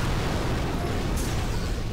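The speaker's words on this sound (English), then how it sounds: "They take out like a chunk of health each time a Doom Cannon shoots my guys" Doom Cannon fire in the Boom Beach mobile strategy game, a dense, loud, continuous rumble of booming blasts that fills the short stretch without a break, with no voices.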